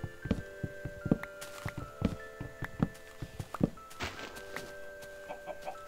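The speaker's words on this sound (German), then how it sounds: "Ein neues Huhn." A chicken in the Minecraft video game clucks in a quick series of short, fairly faint bursts, with some soft thumps mixed in.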